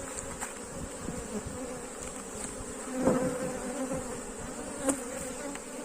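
A close, steady drone of many honeybees buzzing around a newly split colony hive, with occasional louder passes of individual bees near the listener.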